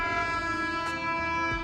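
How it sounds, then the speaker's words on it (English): An old, rusty train in Thailand sits idling and starts to pull away, giving a steady, loud mechanical drone rich in sustained tones, with a brief burst partway through and low rumbling knocks near the end. "there's a train waiting and leaving a little bit"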